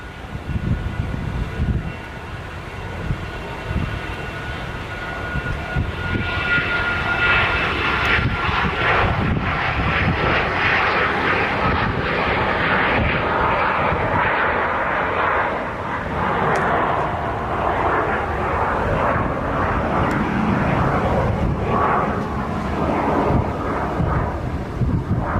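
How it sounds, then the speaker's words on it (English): An aircraft passes at Nashville International Airport, its engines building into a loud, sustained roar that swells and lingers with a broad rumble and some wind buffeting, heard alone without talk. "Pretty colored aircraft."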